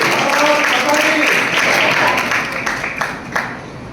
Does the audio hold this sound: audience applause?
yes